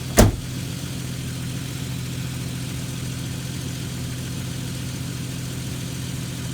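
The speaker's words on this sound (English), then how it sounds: "All right, fire it up, Sir Izzy." Jeep Cherokee XJ engine catching with a brief loud burst, then settling into a steady, even idle hum that continues unchanged to the end.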